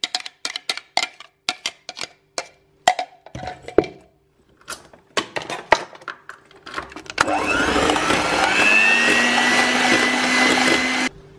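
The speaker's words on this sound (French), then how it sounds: "J'ajoute la purée à mes œufs et je mixe immédiatement pour éviter que les œufs ne cuisent." An electric mixer blending pumpkin purée into eggs whirs loudly and steadily for several seconds, after scattered clinks and taps of kitchen utensils and dishes.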